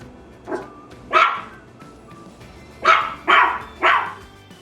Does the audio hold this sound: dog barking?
yes